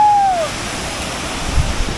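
Water pouring down a roadside waterfall near Ambit dam in the Akole area after monsoon rains, a steady broad rushing wash that holds at a constant level throughout, with a brief tonal chirp at the start.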